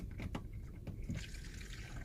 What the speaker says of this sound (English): and I can fill it with water.